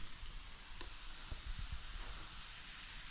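Vegetables sautéing in a pan give a quiet, steady sizzle with a few faint stirring clicks throughout.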